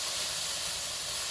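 Ahi tuna searing and caramelizing in a hot pan, a steady close hiss of sizzling fat with no break across the short moment.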